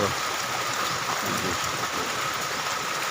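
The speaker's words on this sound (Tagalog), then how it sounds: "magdamag ang ulan simula kagabi." Steady rain falls through the night in a constant, even hiss of drops, moderately quiet and unbroken, with no voices over it.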